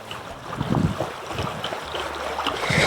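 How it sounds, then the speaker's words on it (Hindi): Clear mountain spring water flows along a channel toward farm fields in a German village, a steady close rushing murmur mixed with gusts of wind on the microphone. "ये देखें, ये चश्मे का पानी है, ये पहाड़ों से आ रहा है, बिल्कुल साफ़ है।"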